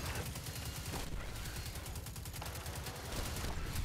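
Rapid turret gunfire in a video game, a continuous fast stream of loud, close shots pounding steadily with no pauses, alone without talk.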